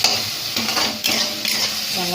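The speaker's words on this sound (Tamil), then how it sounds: "வெங்காயம் தக்காளி வதங்குது." Onions and tomatoes sizzle steadily in a pan for a pea pulao, with a spoon scraping and stirring through them in short strokes, close and fairly loud.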